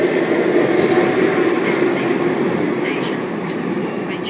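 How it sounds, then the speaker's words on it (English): A Sydney train pulling away from a platform at Chatswood station, a steady loud rumble of wheels and motors close by that gradually eases, with a few brief high squeals near the end and a voice speaking briefly. "A24 just departed platform 3."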